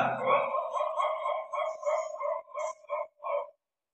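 A voice imitates a distant dog barking, a string of short yapping barks that start dense and thin out into separate, evenly spaced yelps before stopping.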